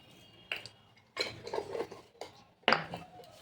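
Vegetables being tossed with turmeric and salt in a metal bowl, giving three short bursts of scraping and clinking against the dish, close by with quiet pauses between.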